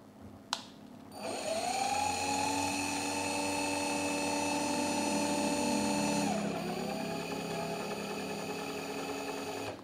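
An HnL HL312 cordless drill running in first gear whirs up with a steady high mechanical whine after a click, holds it for several seconds, then winds down slightly and keeps spinning, close and alone.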